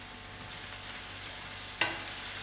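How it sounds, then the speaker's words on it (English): Ground roasted spices fry in hot oil for a Durban fish curry with a steady, close crackling sizzle, and a brief sharper hiss flares near the end. "Allow it to fry."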